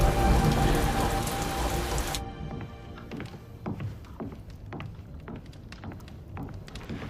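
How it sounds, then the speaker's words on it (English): Rain hisses steadily and loudly at first, then drops abruptly to quieter scattered drips and taps with occasional heavier knocks, as if heard from indoors. "Just got caught up in a little rain"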